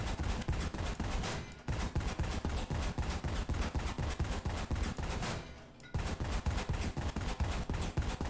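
Rhythmic bursts of cannon or machine-gun fire at a tank's gun barrel in War Thunder, loud repeated shots in steady groups, broken by two short pauses.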